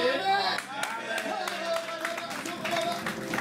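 A church congregation claps along in steady, rhythmic bursts, the crisp claps layered over music and singing voices that carry through the whole stretch.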